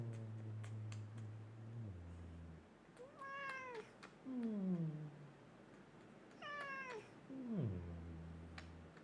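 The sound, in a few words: cat meowing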